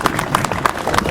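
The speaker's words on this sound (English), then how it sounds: "Let's have a round of applause" Audience applause at a classic motorbike show in Stafford: a dense run of clapping hands, steady and fairly close, with a few sharper claps standing out and some voices mixed in.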